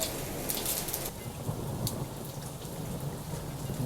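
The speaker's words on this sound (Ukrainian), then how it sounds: "пішов град. Таке скаженне льє, Просто таке скаженне." Heavy rain with small hail pours down during a thunderstorm over a garden, a dense, loud hiss with sharp crackling hits scattered through it.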